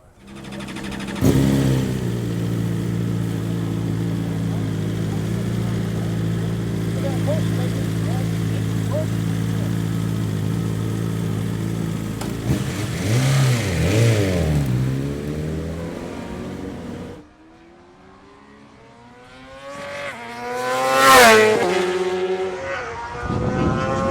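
BMW World Superbike racing motorcycle engine revving hard while ridden, a loud sustained high-pitched drone for most of the clip, then dropping away before a sharp rising rev near the end.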